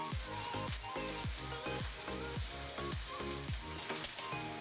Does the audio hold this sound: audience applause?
no